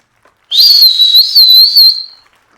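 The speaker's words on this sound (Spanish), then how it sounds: "Escucha mi silbido" A person whistles one wavering, warbling high tune for about a second and a half, close and loud, with no talking around it.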